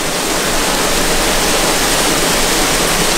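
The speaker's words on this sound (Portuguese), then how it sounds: "Coloca um pouco de água e libera um pouco de pilão." Water gushes steadily into an old water-powered monjolo corn pestle used for artisanal Minas Gerais corn flour, a loud, continuous broadband rush like a small waterfall, with no voices.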